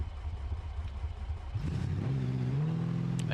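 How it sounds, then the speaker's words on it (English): A car engine fitted with a Derby exhaust in the video game BeamNG rumbles low, then revs up in a rising, throaty climb, loud and close. "I do love the Derby exhaust there."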